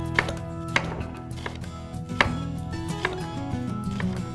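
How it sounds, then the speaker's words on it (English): Knife cutting a halved jicama into strips on a cutting board, several distinct chopping thuds at an uneven pace, close and clear, with kitchen background noise between strikes. "So we'll cut this guy in half, then go ahead and cut this into strips."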